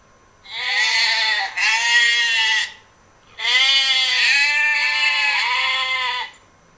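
Two long, loud goat bleats, each a wavering drawn-out cry lasting a couple of seconds, separated by a short silence.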